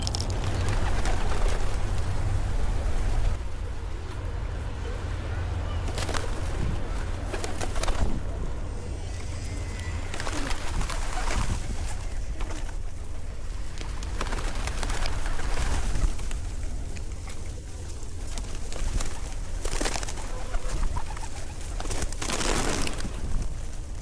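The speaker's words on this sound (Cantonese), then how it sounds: "既然打完卡影完相，呢度冇貓餵，就不如餵下白鴿啦。" Pigeons being fed in an outdoor square in Izmir, Turkey, with soft cooing and scattered wing flaps over a steady outdoor background hum, with no talking.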